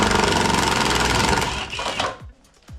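A 13mm socket tool spins on a car bolt with a loud, steady buzzing whir, then slows and cuts off into a few short mechanical clicks and knocks.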